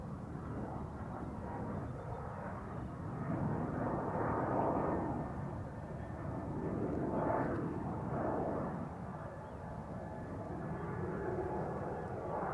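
An Air France Bombardier C-Series 300 (A220) jet at Amsterdam Schiphol produces a faint, rolling engine roar that swells and fades in slow waves, with no voices.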